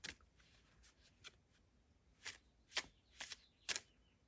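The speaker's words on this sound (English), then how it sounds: "So we've got 2 Oracle decks, and this is the first one. I'm going to pull a couple cards from that one." Oracle deck cards are shuffled and pulled by hand, in soft, close riffling and sliding bursts, with several quick flicks near the end and no talk.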